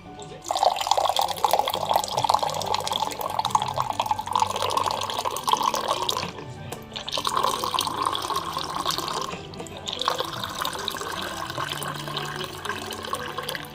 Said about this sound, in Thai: ใส่แก้วแล้วก็กดน้ำกิน